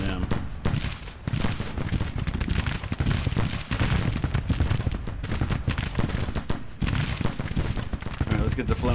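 Musket gunfire in the Civil War strategy game Grand Tactician, with dense, continuous volleys crackling and booming in rolling bursts across the whole stretch, loud and layered like massed infantry firing.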